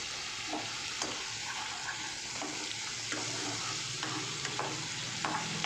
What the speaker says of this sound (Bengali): এটা দিয়ে সুন্দরভাবে মশলাটাকে না কষিয়ে নেব